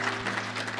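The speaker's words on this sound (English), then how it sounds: "Clap your hands." A church congregation claps together in a dense, steady burst of many hands, close and continuous over a brief stretch.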